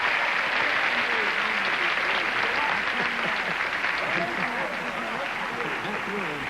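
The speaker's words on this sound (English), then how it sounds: "if you would join me in a brisk round of applause for Verno Twilliger and Patty Wickham." Studio audience applause on a 1977 television game show, a dense, steady wash of clapping throughout, with faint cheering or voices mixed in beneath it.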